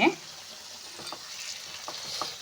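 A tamarind gojju mixture for chitranna rice is stirred in a pan, a faint sizzle with light, sparse scraping strokes and a brief clatter at the start, quiet and close.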